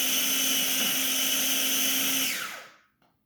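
A food processor whirs steadily for a couple of seconds while cutting butter into a cheesecake crust mixture, a loud high motor whine that then winds down and stops.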